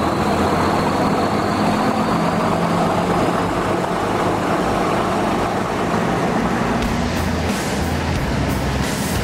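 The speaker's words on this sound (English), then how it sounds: "Three huge engines at the back and a fantastic boat that I'm about to drive." Three huge engines roar from a fast motor torpedo boat under way, a loud, steady, dense rumble with no pauses and no talk.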